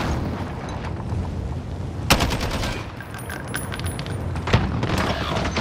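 Rapid bursts of video game gunfire crackle over a busy battle soundscape, with two sharper, louder shots standing out amid the steady rattle of weapons.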